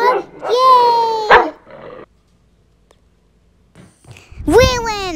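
A cartoon dog lets out two loud, whiny, yelping barks, apparently voiced by a person imitating a dog, separated by a quiet gap of a couple of seconds.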